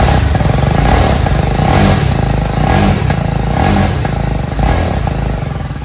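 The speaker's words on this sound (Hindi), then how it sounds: "सबसे पहले मैं आपको इसके एग्जॉस्ट के साउंड को चेकआउट करा देता हूँ" A 2023 BMW G310 R motorcycle engine revs loudly up close, its exhaust roaring and rising in repeated surges over a steady idle rumble.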